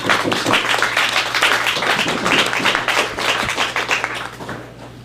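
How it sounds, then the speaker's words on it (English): A crowd applauds steadily, dense clapping filling the space for several seconds before starting to thin out near the end. "Give them a big round of applause for supporting us."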